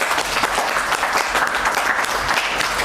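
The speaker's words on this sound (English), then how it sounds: "So we'd like to just give them a round of applause." An audience at a high school capital markets quiz competition in Zimbabwe gives a loud, dense round of applause for the sponsors, sustained throughout with no talk over it.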